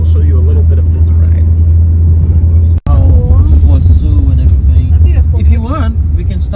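Heavy, steady low engine and road rumble inside a car on a long road trip in Pará, Brazil, with a brief cut partway through and people talking over the drone.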